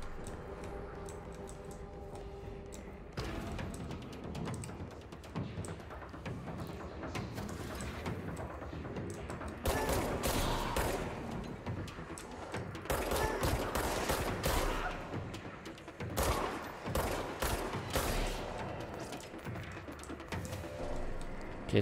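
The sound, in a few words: gunfire from the video game Control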